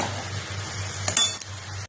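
Bottle gourd and prawns with spices stirred in a pan, close spatula scrapes and a few metallic clinks over a low steady hum and faint sizzle, ending abruptly.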